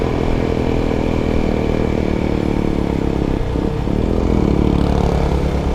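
A Kawasaki Ninja 250 SL fitted with a lowering kit drones steadily while riding, a loud continuous single-cylinder engine hum with wind rush and a brief dip in revs partway through.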